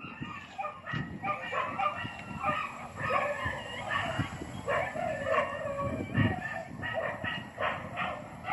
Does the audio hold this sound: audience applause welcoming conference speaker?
no